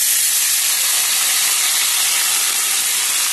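Onion, green chili, grated garlic and ginger frying together in hot oil for chili chicken, giving a steady, loud sizzling hiss with no break and no talk.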